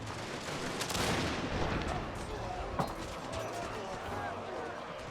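Massed gunfire and artillery rumble from a Prussia-era war strategy game, a dense continuous crackle of musket volleys with a sharp crack near the three-second mark, layered over steady low battle noise.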